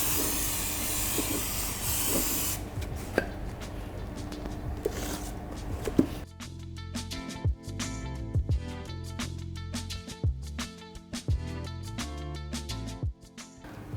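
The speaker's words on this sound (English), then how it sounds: "I'm just going to degrease this using some brake cleaner." Aerosol brake cleaner sprayed onto a part to degrease it: a loud, continuous hiss for about two and a half seconds, then music takes over for the rest.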